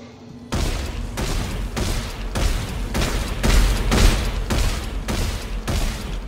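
Rapid, loud automatic weapon fire from Dead Space 3 gameplay, a sustained burst of evenly spaced shots, roughly nine or ten in a steady rhythm, close and heavy with low booming thuds.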